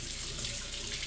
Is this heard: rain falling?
no